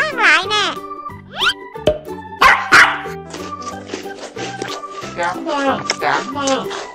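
An electronic dog piggy bank toy, fed a coin, plays loud, tinny synthesized barks and a chirpy childlike voice over a bouncy electronic jingle, close and continuous.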